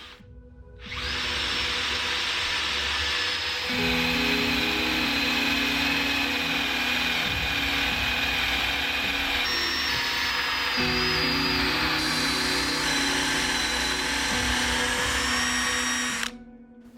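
A power drill whines steadily for about fifteen seconds, loud and close, its pitch shifting as the bit bores vertically into door timber for a mortise lock, then stops.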